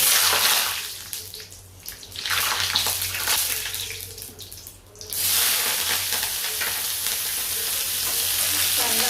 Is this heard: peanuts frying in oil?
yes